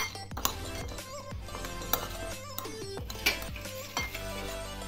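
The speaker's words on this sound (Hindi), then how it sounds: "अब इसे अच्छे से मिक्स कर लेंगे।" A street snack tossed with salt, black salt and lemon juice, stirred with utensils in a metal bowl: a run of clinks and scraping taps at an uneven rhythm, close by, over a steady background hum with no talking.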